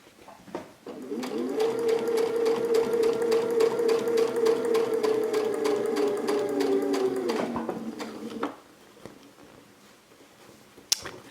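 A sewing machine fitted with a quilt binding foot stitches binding onto a placemat with invisible top thread, running in a steady, fast, even whir for about seven seconds before stopping, followed by faint handling clicks.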